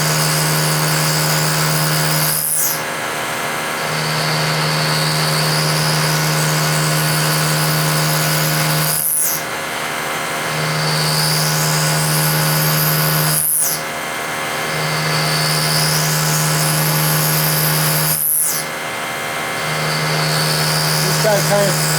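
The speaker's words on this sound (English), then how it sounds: "I always plunge cut for roughing slots out like this." Milling machine plunge cutting a slot with an end mill: a steady high whine from the spinning cutter, broken by three brief pauses with sweeping pitch changes as each plunge step ends, close and loud.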